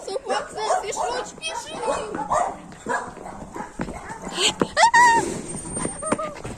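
Dogs bark and yip intermittently in the background at a country cottage barbecue while people talk over them, with some whining near the end.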